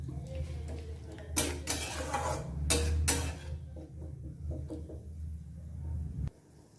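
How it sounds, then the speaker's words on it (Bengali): A lid is set onto a pot of boiling taro stolons: two brief clattering metal knocks stand out over a low steady boiling rumble, close and moderately quiet, followed by softer small clinks. "একটু ঢাকা দিয়ে দিচ্ছি আমি এটাতে"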